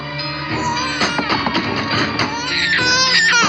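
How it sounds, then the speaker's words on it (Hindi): An infant wails loudly and continuously in a household scene from a Hindi film, crying in strained, rising bursts close to the listener. "बच्चा रो रहा है, सुनाई नहीं दे रहा है?"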